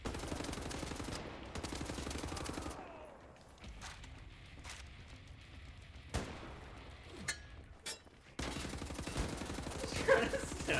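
Shotgun blasts and rapid gunfire ring out in the video game Wolfenstein: The New Order, arriving as dense bursts of sharp reports with quieter gaps and isolated single shots between them, loud in the foreground.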